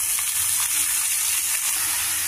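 Strained cabbage frying in a spice tempering with curry leaves crackles in a pan, a continuous close sizzle with faint stirring and no one talking.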